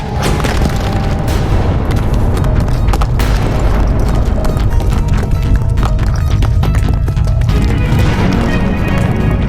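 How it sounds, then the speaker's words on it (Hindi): A mountain blasting apart with rocks flying, heard as a continuous loud, dense roar of rumbling and crashing debris that lasts throughout without a break. "ये तो पर्वत में विस्फोट हुआ है।"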